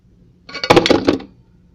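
A leftover chunk of ice tumbles out of an RTIC 20 oz tumbler into a kitchen sink full of dirty dishes, a short clattering thunk and rattle lasting under a second, alone with no talk.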